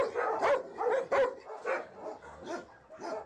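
Stray dogs in a Romanian shelter bark repeatedly in overlapping bursts, several animals close by, with occasional yips mixed in and no talk.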